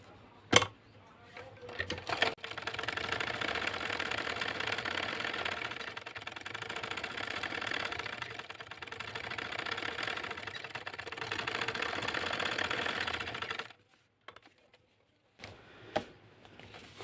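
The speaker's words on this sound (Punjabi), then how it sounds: "ਹੁਣ ਅਸੀਂ ਇਸ ਤਰ੍ਹਾਂ ਸਿੱਧਾ ਕਰਕੇ ਇਹਦੇ ਨਾਲ ਨਾਲ ਸਲਾਈ ਲਗਾਵਾਂਗੇ" A sewing machine stitching along a salwar hem, running in a close steady mechanical whir for about eleven seconds, then stopping, with a few faint clicks and handling noises before and after.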